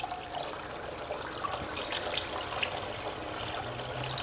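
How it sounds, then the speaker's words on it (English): Water runs steadily in a broad, even wash over a Royal Manufacturing gold dust concentrating table, with faint trickles and small splashes through the constant flow. "We gotta get that table completely full of water."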